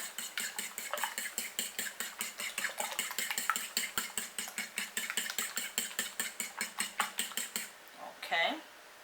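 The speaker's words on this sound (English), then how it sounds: "I'm just going to scramble these eggs up really quick" Eggs whisked with a fork in a bowl for chicken Parmesan, a fast, regular run of close clicking taps that stops near the end, followed by a brief sound.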